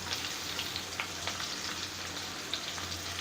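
Stuffed ivy gourds (tondli) fry in oil over a low gas flame, giving a steady close crackling sizzle with scattered pops and a low hum underneath, no voices.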